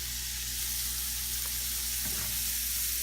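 Green beans cooking in butter in a pan give a steady, close hiss and sizzle with a faint scrape partway through, and no voices.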